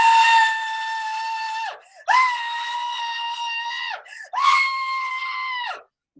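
A voices a long, loud, high-pitched scream imitating her own terror, repeated three times in sustained bursts with short breaths between, close and alone with no other sound.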